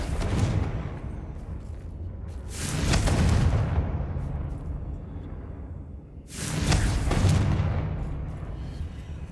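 Two booming blasts from the Confringo spell in Hogwarts Legacy, each bursting out with a rushing roar that slowly fades, set against a low rumbling game backdrop.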